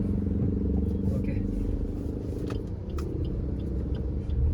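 Low engine rumble of a Maruti Suzuki Baleno driving, steady and close, with road noise and a few light rattles and clicks from inside the cabin.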